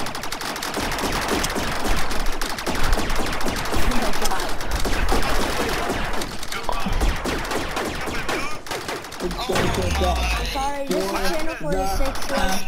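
Rapid gunfire in the Star Wars-themed Rec Room video game, dense bursts of shots and machine-gun fire running almost continuously, with players talking over the shooting.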